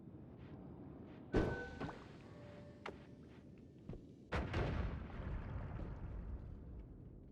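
Bombs going off in Noita, two sharp booming blasts a few seconds apart with rumbling tails and a couple of smaller thuds between, loud and alone without talk.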